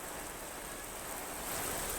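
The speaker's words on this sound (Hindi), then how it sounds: "भारी बारिश लगातार हो रही है" Heavy monsoon rain pours down steadily during flooding in Kota, a dense, even hiss of falling water that swells slightly toward the end, with no voices.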